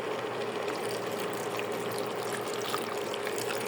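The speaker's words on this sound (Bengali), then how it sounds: "এখন আমি পানি দিয়ে দেবো" Water poured steadily into a pan of cauliflower, bean and potato curry with river prawns, a continuous even splashing and hiss that runs without a break, close and moderately loud, no voices.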